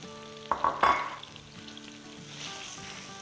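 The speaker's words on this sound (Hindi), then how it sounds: "इसमें हम फ्राई करेंगे अपनी हरी मिर्च और एस्पेरेगस" Green chillies and asparagus hit a hot pan and sizzle as they fry, opening with a couple of sharp spits and clatters before settling into a steady, moderate hiss under a low hum.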